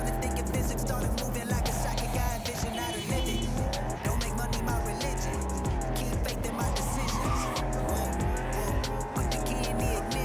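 A car driving in the Cyberpunk 2077 video game with tires squealing, a steady engine drone and screeching tires running throughout, loud and continuous with layered game sound.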